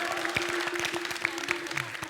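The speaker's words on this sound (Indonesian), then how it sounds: "boleh beri tepuk tangannya dulu" Studio audience at a Bali quiz show in Denpasar clapping steadily for about two seconds, dense applause at moderate level over a faint sustained tone.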